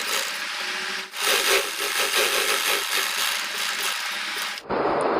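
A sewing machine runs steadily, stitching a folded lace strip doubled to about one inch wide, with a dense continuous whir broken by a short pause near the start and stopping abruptly near the end.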